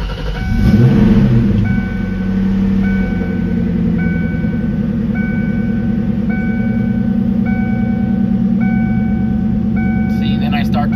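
A 1996 Cobra's engine idles steadily with a deep, even rumble throughout, after a brief louder burst near the start as it comes up to speed; a faint beeping tone repeats in the background.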